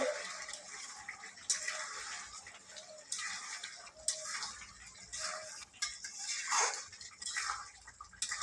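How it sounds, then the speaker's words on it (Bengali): Onions for Bengali chicken kasha are stirred in a pan, giving quiet, irregular scraping strokes with soft sizzling between them. No one speaks. "এবার নেড়ে দেবো।"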